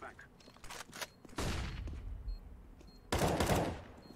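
Bursts of automatic gunfire in a first-person shooter game, two loud sustained volleys with scattered shots between, heard alongside players' voices and in-game noise.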